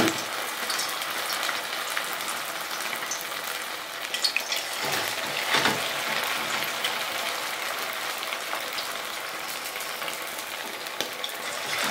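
Pakoras frying in hot oil, a continuous close sizzle and crackle with occasional stirring bursts, steady and fairly loud throughout with no talk.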